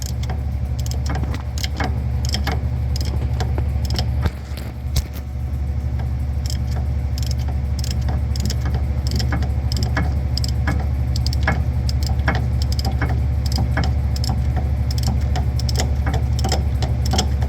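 Ratchet with a hex bit working on the PTU fill bolt of a Ford Maverick, giving a steady, continuous run of close metallic clicking and rattling over a constant low mechanical hum, with no talking.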